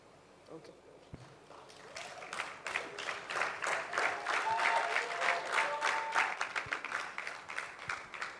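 A keynote audience at a development dialogue event claps, the applause swelling to a steady, dense roar of many hands and then holding without fading, with no talk over it.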